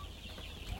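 One-month-old Fayoumi chicks on a poultry farm cluck softly in a brief, low, steady murmur, with one slightly louder chirp near the end.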